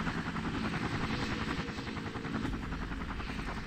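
Rescue helicopter in the emergency-services video game Emergency 3, a steady loud rotor drone with rhythmic blade chopping and engine buzz, continuous and close with no talking.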